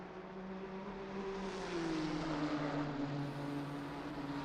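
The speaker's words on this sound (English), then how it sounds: "I hear a car in the grass" A GT3 race car in a sim race at Kyalami drones steadily with a faint rough rumble as it runs through grass, the engine pitch dropping slightly midway, quiet and continuous without voices.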